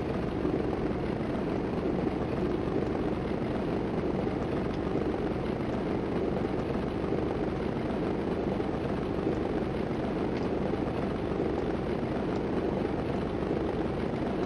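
Airplane engine in the Stunt Island flight game, a steady, unbroken propeller drone at constant loudness, with no voices.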